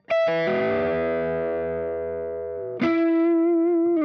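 A Les Paul electric guitar through an Audio Singularity Tangie pedal plays a loud, compressed chord that sustains and slowly fades. A second struck chord follows near the end, ringing with long, even sustain.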